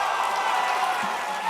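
Brief crowd applause and murmured cheering at a political convention speech, a steady wash of clapping at moderate volume.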